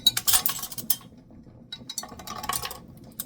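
Light metallic clinks and rattles of hot metal jar lids come in two brief bursts, close by, with quiet room noise between, while sealing jars of kimchi.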